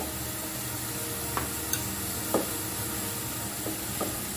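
Onion paste, ginger and tomato paste sautéing for an achari chicken, a soft steady sizzle under occasional spatula scrapes and taps as it is stirred, nearby and without talk.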